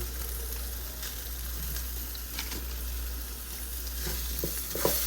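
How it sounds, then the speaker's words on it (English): Kirkland butter melts and sizzles in a pot with pierogi for a one-pot pierogi and kielbasa dinner, a faint steady frying hiss with a few small pops and clinks, no voices. "I'm gonna add some butter to this as well."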